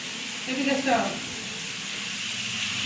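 Chopped onions sizzle in a hot pan with a steady hiss, while a voice briefly speaks over the frying near the start.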